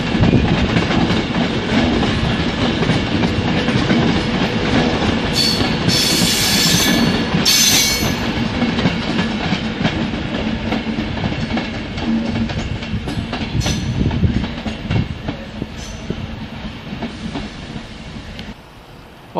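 A Pendolino train passes through Crewe station, a loud sustained rumble of wheels and traction with clicking over rail joints and brief squeals, close by and gradually easing as it moves away.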